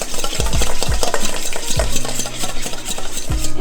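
Parsley being stirred into a garlic butter sauce in a pan, with repeated scraping strokes of a utensil against the pan over a soft sizzle, close and fairly loud, no talking.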